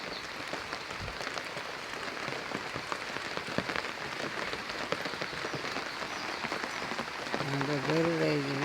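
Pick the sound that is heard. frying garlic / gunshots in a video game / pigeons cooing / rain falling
rain falling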